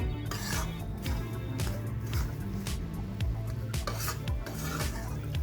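Flour being roasted and stirred in plenty of ghee in a pan for sukhdi, a steady close-up scraping and rasping stir that repeats in quick, even strokes with no pauses.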